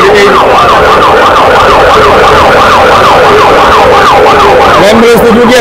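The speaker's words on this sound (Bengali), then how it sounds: "অ্যাম্বুলেন্স তো ঢুকে আছে, ওর তো আর এমার্জেন্সি, আমাদের চাইতে আর এমার্জেন্সি বেশি, সাইরেন বাজাবে" Ambulance siren wailing in a steady repeating up-and-down pattern, loud and close amid a crowded political rally, with crowd noise and traffic rumble beneath it throughout.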